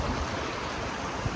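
Stream water flowing steadily beside a hiking trail in Kwaay Paay and Oak Canyon, a constant broadband rush close by with no other sounds.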